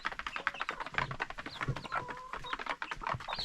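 A rooster in a village in Béoumi clucks softly and fairly far off. Its short calls are faint and mixed with scattered rustling and clicking noises.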